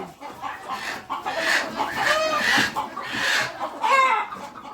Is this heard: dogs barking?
no